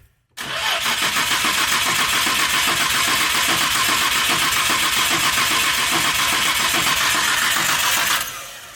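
A Nissan Skyline GT-R R34 engine cranks over without fuel for about eight seconds to build oil pressure, a fast rhythmic churning starter sound that never catches, loud and close, then stops abruptly.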